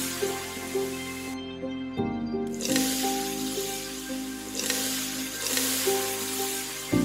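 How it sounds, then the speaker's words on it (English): Shredded meat being stir-fried in hot oil in a pan for spring roll filling, a continuous crackling sizzle with bursts of spattering, heard beneath soft tonal background music. "When the oil is hot, add the shredded meat and stir fry."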